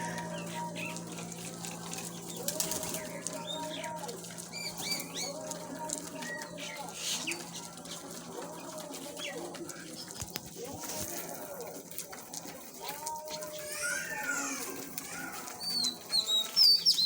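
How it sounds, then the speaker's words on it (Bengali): Pigeons in a pigeon house, local breeds including Sirazi, wild pigeons and Giribaj, feeding amid soft coos, chirps and bursts of wing flapping, with steady mixed bird activity throughout at a moderate, close level. "কত সুন্দরভাবে খাচ্ছে কবুতর"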